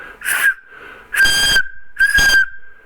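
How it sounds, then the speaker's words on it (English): A spent Winchester 30-30 rifle shell casing blown like a whistle outdoors, giving three loud, piercing sustained tones, each about half a second long, separated by short breathy pauses. "That's a shell from my 30-30 shell from my Winchester, but that's how I call Marco, and I call Raven."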